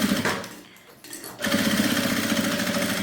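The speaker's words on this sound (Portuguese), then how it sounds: "vou passar uma costura aqui e outra aqui do outro lado, que é pra rebater" Sewing machine stitching a seam on a fabric bag, running steadily and loud at close range, stopping briefly near the start and then resuming a fast, even whirr.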